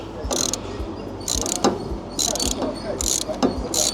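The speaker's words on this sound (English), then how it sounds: "So we're going to use a socket wrench." Socket wrench ratcheting while setting suspension preload on an INMOTION P6 electric unicycle, five short close clicking bursts in a steady rhythm, fairly quiet with no talk.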